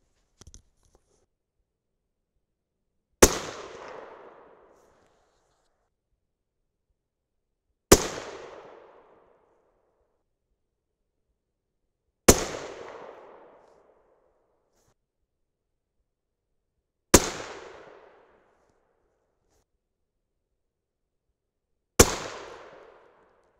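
Five loud rifle shots from a 6.5 Creedmoor firing 130-grain Sierra Game King bullets over 43.2 grains of Winchester 760 powder, each a sharp crack with a short decaying echo, evenly spaced about four to five seconds apart, with no talking.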